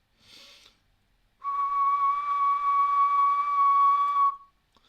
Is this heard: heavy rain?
no